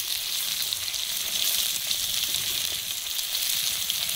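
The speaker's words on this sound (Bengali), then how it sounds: "কাঁচা টমেটোটা একটু তেলে দিয়ে দেবো" Raw tomato hits hot oil with black cumin, giving a steady, close, even sizzle that holds without pause and with no talking.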